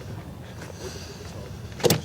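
Car door shuts with a single sharp thud near the end, preceded by quiet rustling and faint movement as someone gets into the car.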